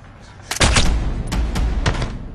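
Several sharp, loud gunshots in Splinter Cell: Blacklist, set in a Kosovo facility: an opening burst of close blasts, then single reports spaced out, each with a deep booming tail.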